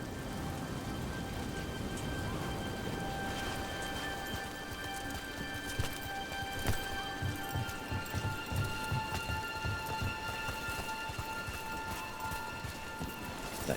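Steady rain falls in a fantasy game scene, a dense even hiss with scattered drips and soft thuds of footsteps beneath, held at a moderate level with no talk over it.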